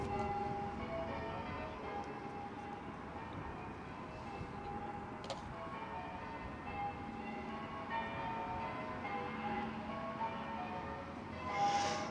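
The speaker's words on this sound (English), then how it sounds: "Can you hear the church bells?" Church bells ringing at a distance outdoors in the evening, their tones hanging over a steady low rumble of outdoor ambience, faint but continuous.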